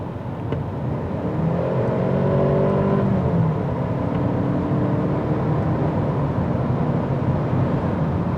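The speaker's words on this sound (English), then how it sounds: "I'm going to downshift a little bit here." A 2020 Mercedes-Benz GLA 250 4Matic downshifts and accelerates, its engine droning steadily from inside the cabin with rising and shifting tones, no talking over it.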